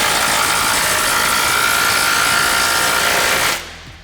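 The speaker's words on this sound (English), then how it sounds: "I'm just gonna tighten up this last bolt here" A steady mechanical whir of a power tool tightening a bolt on the front suspension of a 1971 Chevy C10 pickup, running continuously at close range for about three and a half seconds before cutting off abruptly.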